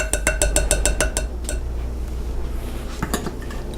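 A spoon clinks rapidly and rhythmically against a bowl while dried minced onions and Dijon mustard are stirred together, the clatter thinning to a few scattered taps.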